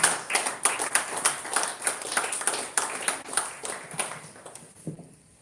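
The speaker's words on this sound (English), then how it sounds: "A round of applause for Mr. Stanley" A small audience at a trauma care counseling session clapping for a guest, distinct rhythmic hand claps forming a modest round of applause that gradually thins and fades out near the end.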